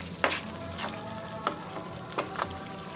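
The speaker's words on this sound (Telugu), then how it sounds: "ఇందులో టమాటా ఉడుకుతుంది చూడండి." Tomato egg curry simmers and sizzles in a pan at close range, a steady frying hiss broken by a few sharp stirring clinks.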